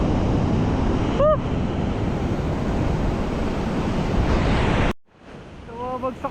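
Strong waves crash and roar continuously along the shore on a fishing outing, with wind blasting the microphone. The roar cuts off abruptly near the end, and brief voices break through.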